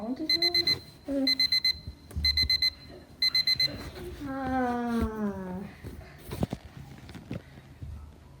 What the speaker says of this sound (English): Oh, stupid alarm clock.